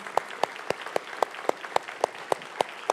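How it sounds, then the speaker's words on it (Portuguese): A church congregation claps together in a steady, evenly spaced rhythm, about four sharp claps per second, close and clear, with no talking over it. "Dá uma salva de palmas para esses queridos aqui."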